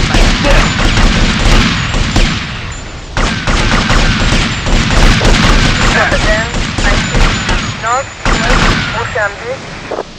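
Loud, chaotic gunfire in the video game GTA Vice City, shots and booms piling into a dense barrage, with voices shouting through the noise.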